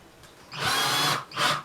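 A power drill driving screws into an IKEA vanity whirs in two short bursts, the first longer and rising in pitch as it drives in, the second brief, close and loud.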